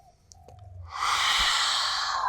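Slow, deep breath during a yoga forward fold: a soft intake, then a long, steady, airy exhale close to the microphone, with no talking.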